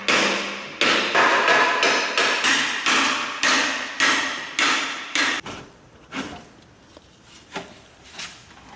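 Someone strikes a car torque converter repeatedly with a hammer to free it from its dowels. About a dozen loud, close metallic blows come in a steady rhythm, then a few lighter knocks and shuffling follow.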